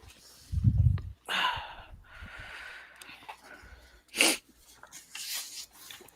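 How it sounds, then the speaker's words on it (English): A person sneezes once, a sharp, close burst near the start, followed by breathy snorting and sighing sounds with scattered vocal noises. "Ugh, I need to sneeze."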